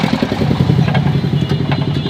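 A motorcycle engine running in a fuel pump queue in Ulipur, Kurigram, Bangladesh, a loud, close, steady idling putter with rhythmic pulses throughout.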